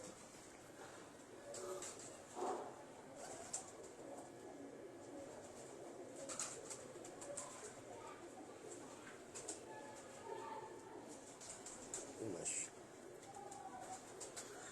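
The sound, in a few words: pigeons cooing, Jugnu and Red Bull breeds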